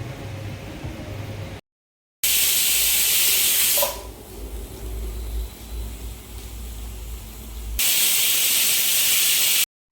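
A pressure cooker whistle releases loud bursts of hissing steam in long blasts, broken by brief silences and a quieter stretch between them, while cooking a bottle gourd curry.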